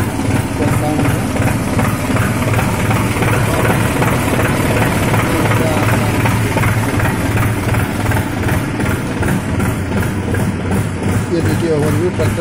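A New Holland 4710 tractor idles through its silencer with a steady, loud, close diesel rumble that holds an even tone throughout.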